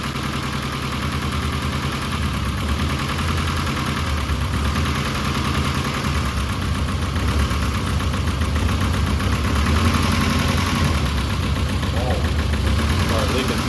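A Nissan 240SX single-cam engine revived after sitting 20 years idles loud and rough with a steady clattering drone, close up and continuous throughout.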